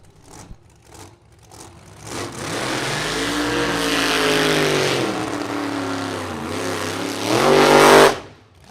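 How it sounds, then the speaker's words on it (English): A front-engine dragster and an altered run at a vintage drag race, engines roaring up loudly and climbing in pitch, holding a sustained blast, then peaking in a final surge before cutting off abruptly. "a front-engine dragster and an altered"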